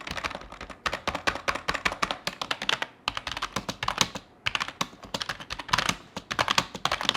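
Rapid keystrokes on a computer keyboard as a writer works, close and clicky, coming in quick bursts with short pauses between runs.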